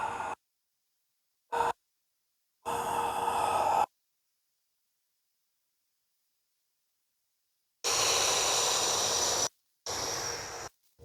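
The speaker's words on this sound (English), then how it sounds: "Now I'm trying to do some noises, all the sound element of breathing" Forceful breaths in and out during a Flystick exercise session, heard as separate hissing bursts: a brief puff, then longer whooshing exhales and inhales, each separated by silence, fairly close and loud.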